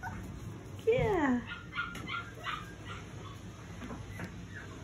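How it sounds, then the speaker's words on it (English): Six-week-old puppies yip and whimper in a kennel playground, one sharp, rising-falling yelp up close followed by softer scattered yips, with people talking nearby. "See, those are Paris puppies."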